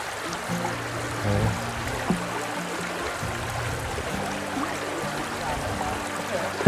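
A clear stream flows through a rural spot in Batangas City, Philippines, making a steady, close rushing and trickling wash with a low rumble beneath and faint voices now and then.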